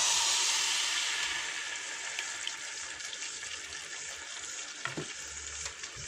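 Dough cakes (pitha) frying in hot oil, a loud, dense bubbling sizzle that fades slightly over time, with a few faint clinks.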